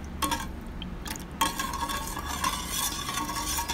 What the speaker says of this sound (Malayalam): നന്നായിട്ട് നമുക്കിത് ഇളക്കി കൊടുക്കാം